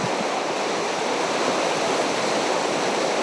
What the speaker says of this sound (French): Une rivière infranchissable